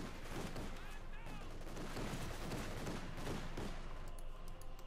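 Machine guns rattle in a Company of Heroes 2 battle between German OKW and Soviet forces, a steady dense wash of distant automatic fire with scattered bursts layered under battlefield noise for the whole stretch.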